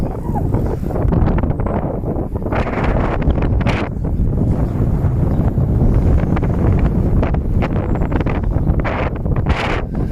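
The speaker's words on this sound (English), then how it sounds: "The headwind is still going strong." Strong headwind buffets the microphone while cycling on a touring bike near Barnard Castle, giving a loud, continuous roar with gusty surges and no talk.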